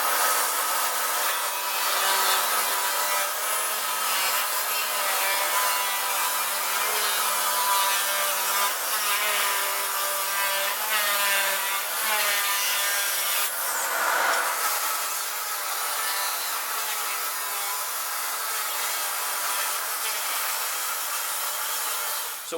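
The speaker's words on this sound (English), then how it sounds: "then we'll cut it out with my electric shear" An electric shear cuts through sheet metal with a continuous harsh, buzzing rasp, close and steady for over twenty seconds with a brief dip midway, no talk.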